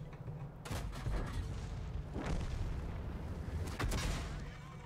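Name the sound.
tank derp gun firing in video game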